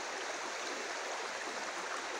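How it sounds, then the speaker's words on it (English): Steady, continuous trickle of water running in a small stream, an even close wash of babbling flow with no voices. "it's just basically a trickle of water"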